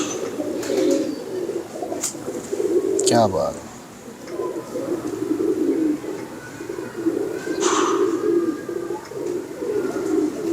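Z.A. Khan pigeons coo steadily up close throughout, with a few sharper chirps, while someone talks briefly over the birds.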